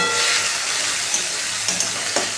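Spice paste of turmeric, salt, chilli and coriander with a little water fries in a pan, giving a steady, close sizzling hiss with a few soft stirring knocks.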